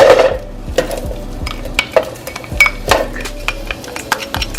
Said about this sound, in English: Now I will go ahead and add the onion.